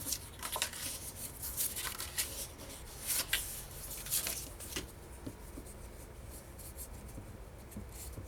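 Paper being folded, creased and rubbed down by hand while gluing scrapbooking pieces, with close, crisp rustles and scraping strokes that come in irregular bursts and fade to quieter handling near the end.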